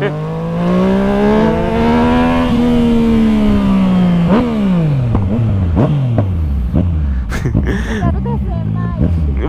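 A motorcycle carrying a rider and a passenger revs loudly and close by, the engine pitch climbing and holding, then dropping in several quick rising and falling bursts as it rides off. Voices talk over the engine.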